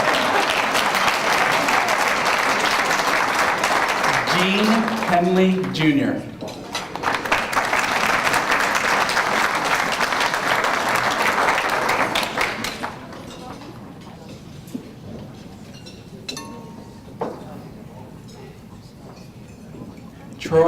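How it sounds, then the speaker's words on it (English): An audience at a school district employee of the year celebration breaks into loud sustained applause, then it fades to scattered claps and thuds as a speaker reads out a name. "The superintendent says we can applaud each one."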